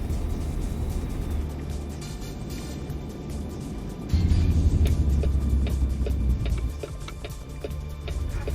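Peterbilt 389 truck with a modern engine in American Truck Simulator, a steady low rumbling drone that swells louder and throbs for a few seconds mid-way, then settles back to a quieter hum.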